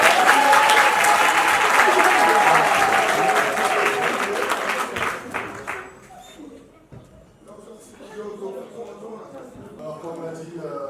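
Guests at a surprise birthday party break into loud, sustained applause with cheering voices mixed in, the clapping fading out after about six seconds into quieter chatter and scattered sounds.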